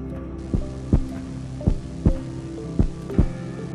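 A heartbeat sound effect, used as the heartbeat of the old Xiamen Street police station, gives six regular double-thump beats with low hum between them. It is loud and close, with no voices.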